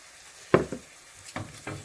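Spices sizzle and hiss in a pan of Indian chickpea and red kidney bean curry right after a splash of water goes in, a sharp burst followed by softer stirring scrapes and sizzles.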